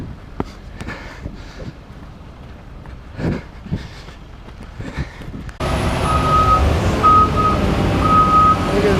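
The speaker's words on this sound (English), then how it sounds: "Big off-road truck backing up there." A big off-road truck reverses on a muddy excavator jobsite, its backup alarm sounding as clear repeated beeps over heavy engine rumble and wet mud noise, following a quieter stretch of footsteps and splashing.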